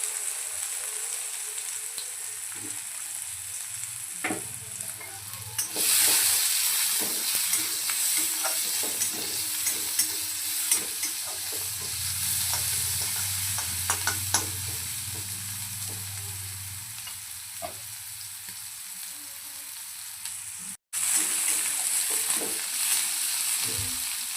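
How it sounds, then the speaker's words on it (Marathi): Chopped onion frying in hot oil for a dhaba-style paneer matar curry, with a steady broadband sizzle throughout that grows louder after a few seconds and is punctuated by scraping stirs of a spoon against the pan. "तेलामध्ये मी कांदा ॲड केला आहे."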